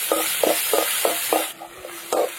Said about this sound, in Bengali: এই যে পেঁয়াজ, আদা, রসুন, কাঁচা লঙ্কা সব আমি ভালো করে একদম ভেজে নিয়েছি।